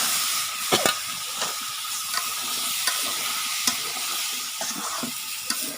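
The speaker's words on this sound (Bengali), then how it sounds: "এখন আমি সবজিগুলো দিয়ে দেবো।" Vegetables stirred into a fried spice paste in a home kitchen pan, giving a steady close sizzle and hiss with scattered clinks and scrapes of the spoon against the pan, no voices.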